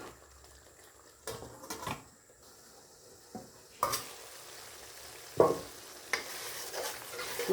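Mutton roast masala cooking in a pan, with a low steady sizzle and bubble. Scattered clinks and stirring scrapes of a utensil against the pan come now and then, fairly faint.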